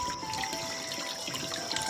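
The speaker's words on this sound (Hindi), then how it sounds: "वो झरने का बहता पानी अपनी मौज में चला जा रहा है" Water flows steadily down a handmade model waterfall of mountains, a lake and a pool, making a continuous soft trickling and splashing at moderate loudness.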